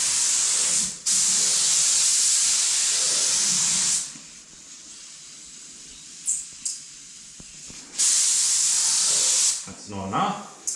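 A spray gun lays silver metallic paint onto a Mazda 929 in bursts of loud, steady hissing, roughly three seconds each, with quieter gaps and faint movement between passes.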